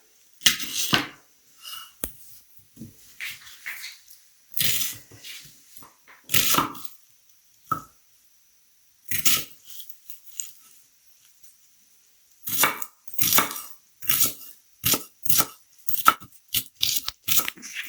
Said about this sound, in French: Pour commencer, on va couper les oignons.